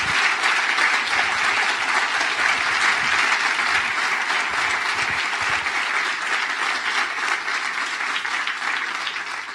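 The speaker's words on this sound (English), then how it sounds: "So can I get a round of applause for the parents and grandparents of Alexis Ohanian?" Sustained audience applause at an entrepreneurship event in Armenia, a loud continuous roar of many hands that holds steady for several seconds before easing slightly toward the end.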